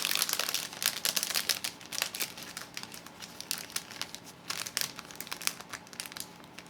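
Clear plastic lash packaging crinkles and crackles up close as it is handled and folded, a continuous run of sharp rustles with no talking.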